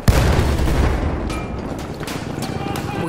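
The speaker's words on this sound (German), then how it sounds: "Ich werfe eine Granate." A grenade explodes in the Battlefield 1 Argonne forest map, a loud booming blast at the start that rumbles and rolls on for seconds amid distant battle noise.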